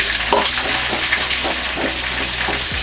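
Sliced onion frying in hot oil for mango chitranna rice, a steady close sizzle and crackle that carries on unbroken with no talking.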